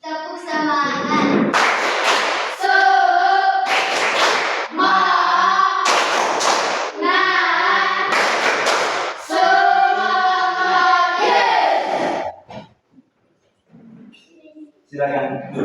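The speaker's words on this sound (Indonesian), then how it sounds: "Tepuk semangat." A group of people, such as students or teachers in a classroom or training session, performs a rhythmic cheer clap in several loud bursts of patterned claps, with voices mixed in, then a short pause and a final brief burst.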